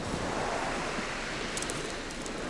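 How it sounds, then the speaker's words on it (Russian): Gentle waves of a calm sea at a resort town in Adler wash softly and continuously in January, a low steady hiss of surf with no voices. "Вот море спокойное."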